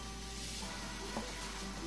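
Food sizzling in a home kitchen pan, a faint, steady hiss with small crackles at low volume and no talking.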